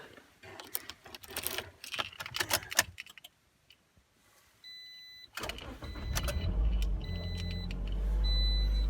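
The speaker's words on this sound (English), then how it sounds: "I'm gonna start the car and let it bubble a bit." A Toyota Corolla is started: a run of quick clicks and rattles, then a quiet pause, before the engine catches and settles into a loud, steady low idle rumble with faint high beeps over it.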